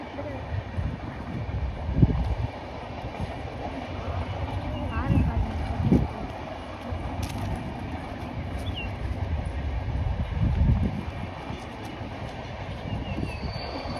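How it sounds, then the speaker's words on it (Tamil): A train rumbles and clatters nearby as it begins moving, with low engine noise and occasional wheel clicks under some talking. "ட்ரெயின் போக ஆரம்பிச்சிச்சு பாருங்கள்"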